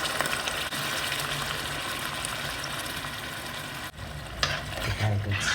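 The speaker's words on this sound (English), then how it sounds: "Give that a good stir." Ground beef that has already browned is stirred together with tomato puree in a pan, giving a steady scraping and stirring sound over continuous sizzling throughout, with a brief pause near the end.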